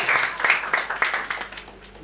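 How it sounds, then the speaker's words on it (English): Audience clapping at a Toastmasters public speaking meeting, a modest group giving scattered, uneven claps that gradually thin out over two seconds. "Please clap from each of us."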